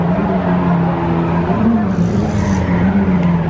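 Car drifting around the Archerfield race track, a steady loud engine roar with tyre noise held throughout, rising slightly in pitch midway.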